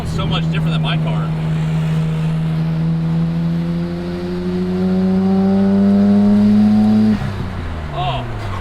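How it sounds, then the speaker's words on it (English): A Nissan Laurel's turbocharged engine pulls hard from inside the car, its note climbing steadily as it accelerates, then dropping off sharply when the throttle lifts near the end. "you can hear the turbo is pretty good."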